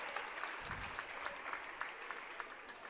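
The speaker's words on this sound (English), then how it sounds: "there is a big crowd here tonight" A big crowd at a girls' high school basketball game applauds and cheers steadily, a broad wash of clapping held at a distance for a few seconds with no voices standing out.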